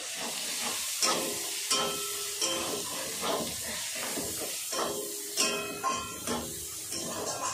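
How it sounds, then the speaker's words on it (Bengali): Ginger garlic paste sautéing in a pan crackles and hisses in a dense, steady sizzle, with rhythmic scraping stirs recurring every second or so, near and unaccompanied by speech. "আদা রসুন বাটা। ভালো করে আমি কষে নেব।"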